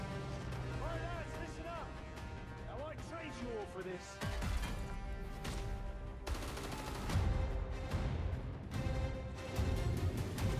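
Pistol gunfire in the video game Call of Duty Warzone: a few sharp shots crack out in the second half, loud over a steady game backdrop, with a voice talking across the clip.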